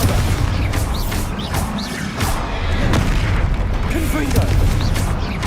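Bombarda blasting spell in Hogwarts Legacy on PC, heavy booming explosions rolling together into a loud, dense and constant rumble of magical combat, with no letup across the whole stretch.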